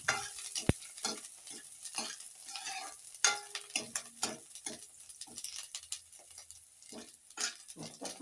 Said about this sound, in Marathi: कांदा चांगला फ्राय झालेला आहे